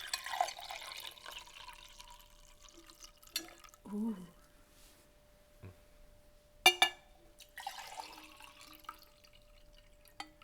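A drink is poured into glasses, with short bursts of splashing and trickling liquid at the start and again near the end, and a brief vocal exclamation in between.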